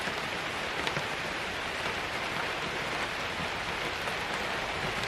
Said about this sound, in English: So this is actual rain.